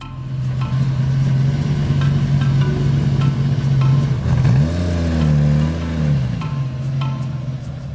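A 1966 Lamborghini Miura supercar's mid-mounted engine idles loudly, then revs up in a rising, wavering surge before settling back, close and powerful, with no talk.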